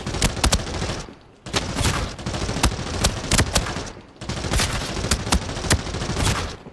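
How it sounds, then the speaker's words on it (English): AEK assault rifle hip-fired in the shooter game Arena Breakout, loud rapid-fire automatic bursts with very fast cracking shots in three long strings separated by short pauses. "AEK hip fire."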